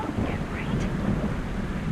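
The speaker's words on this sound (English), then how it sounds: "Now this area has something of a weird localized weather system, so I apologize for the rain" Thunder and steady rain from a localized weather system in the Minecraft Universal Studios DLC studio tour, a continuous broadband wash of rainfall with low rumbling thunder running throughout at an even level.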